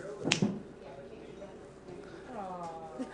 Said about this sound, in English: All I do is snap my fingers